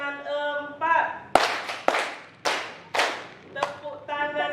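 Several sharp hand claps in a rhythmic group near the microphone, set between stretches of a voice speaking before and after.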